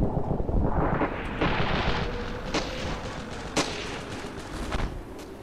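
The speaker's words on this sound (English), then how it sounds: "do some cover fire with a rocket launcher" Ravenfield battle with rocket launcher explosions and gunfire: a heavy rumbling blast fades into a dense roar of combat, punctuated by several sharp cracks and booms at irregular intervals, loud and unvoiced throughout.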